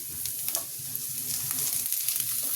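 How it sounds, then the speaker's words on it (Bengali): Ginger, garlic, beetroot and coriander stems frying in oil in a pot for soup, a steady soft sizzle with faint crackles and occasional stirring clicks, close and alone. "এখানে আদা দিয়ে দিলাম, রসুন দিয়ে দিলাম, দিয়ে একটু ভাজা ভাজা করব।"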